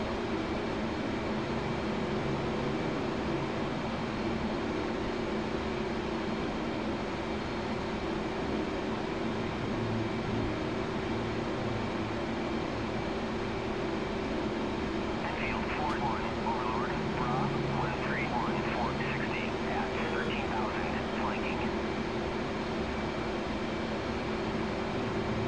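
Steady propeller aircraft engine drone in a combat flight game, a constant loud hum with a faint tonal whine running throughout, and brief higher chirping sounds layered in partway through.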